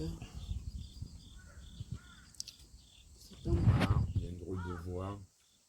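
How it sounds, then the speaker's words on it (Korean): A crow caws outdoors in a few harsh, rasping calls that grow louder toward the end, with quieter rustling and background sounds before them. "까마귀 소리가 웃겨"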